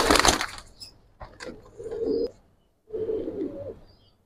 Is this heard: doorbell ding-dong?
no